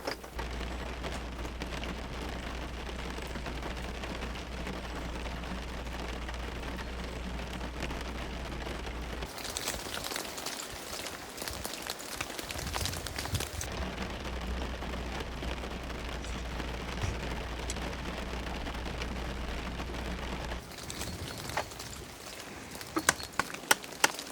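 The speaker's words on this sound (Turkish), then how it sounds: "İlk defa böyle bir yağmur görüyorum." Heavy rain pours down at a Muğla campsite around a caravan, a dense steady roar drumming on surfaces throughout, dipping briefly in the middle and near the end before surging back, with a few sharp drops or knocks at the close.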